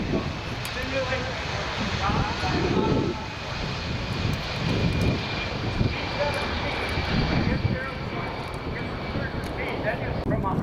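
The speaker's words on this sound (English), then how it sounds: "Now this will be a tactical takeoff." Boeing C-17 Globemaster III jet engines roaring through a tactical takeoff at the 2024 Dayton Air Show, a loud broad rumble that swells and fades, with someone talking over it throughout.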